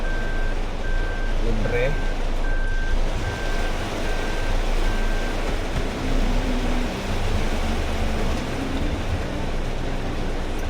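A truck reverses in a workshop yard, its backup alarm beeping in a steady repeating pattern over a loud rumbling engine, while people talk nearby.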